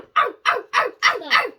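A child imitates a dog barking with five quick, evenly spaced yelping barks, close and clear, with no other sound around them.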